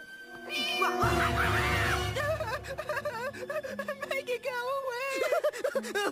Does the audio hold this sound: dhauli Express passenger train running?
no